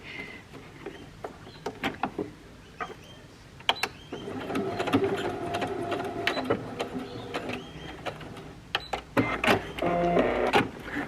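Sewing machine running in short bursts and longer steady stretches while stitching a small square onto elastic for pants, stopping and restarting as the fabric is turned, close and fairly loud with no talk.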